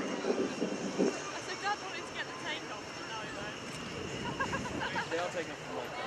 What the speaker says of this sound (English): This is the Boeing FA-18C Hornet.